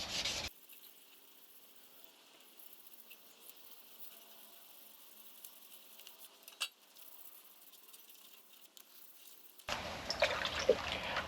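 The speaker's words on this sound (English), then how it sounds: "I'm just going to give this a quick polish with some 1500." A golf cart electric motor armature being hand-polished with 1500-grit sandpaper gives a faint, steady, soft rubbing that runs unbroken, with no one talking.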